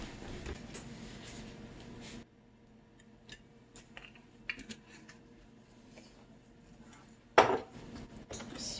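A frying pan is handled on the stove before oil goes in for frying Spam. A low kitchen hum carries a few scattered light clinks and taps, with one sharper metallic clank near the end.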